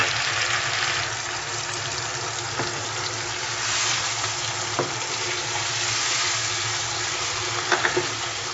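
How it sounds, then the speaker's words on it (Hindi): Ground tomatoes hitting sizzling tandoori masala in a pan, a steady loud frying hiss with bubbling and a few soft clinks, no voices. "अब हम इसमें टमाटर जो हमने ग्राइंड किए थे वो हम इसमें ऐड करेंगे।"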